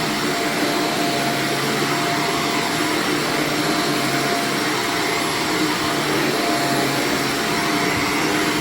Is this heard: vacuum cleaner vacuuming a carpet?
yes